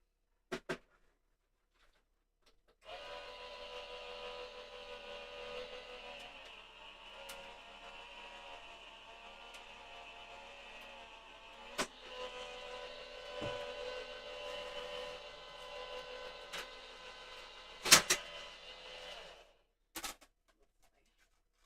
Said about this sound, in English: I'm going to pop this into my die cutting machine